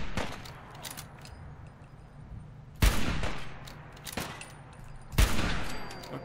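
Repeated missile launcher blasts in Fallout 4, three loud sharp booms about every two to three seconds, each trailing into a rumbling decay over steady low background noise.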